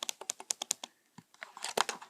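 Redragon Karura gaming keyboard keys pressed in quick succession, a dozen crisp close clacks, a brief pause, then a denser flurry of keystrokes and heavier key hits.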